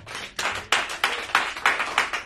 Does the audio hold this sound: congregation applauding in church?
yes